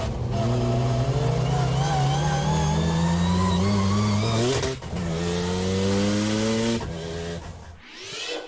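Mazda RX-7 rotary-engined car accelerating on a track, its buzzy engine note rising steadily through gears, loud and close, with a short dip between shifts and the sound falling away at the end.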